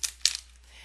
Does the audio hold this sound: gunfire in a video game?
no